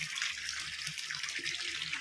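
Water pours steadily into a tank with a continuous bright splashing rush, close and fairly loud, with no voices over it.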